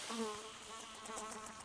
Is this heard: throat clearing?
no